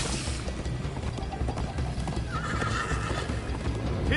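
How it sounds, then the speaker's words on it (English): A horse in a video game gallops with rapid clip-clopping hooves and lets out a neigh partway through, set against a busy background of game sound with no speech. "First time on a horse here."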